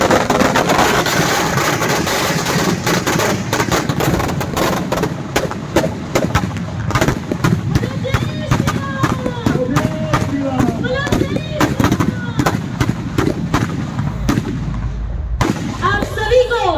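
Firecrackers burst in rapid, irregular volleys at a Vijayadashami celebration, loud and continuous for about fifteen seconds. Crowd noise and talking mix in beneath the crackling.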